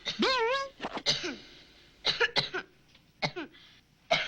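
Several short, raspy coughs and throat-clearing bursts come in quick clusters, close and fairly quiet, separated by brief pauses.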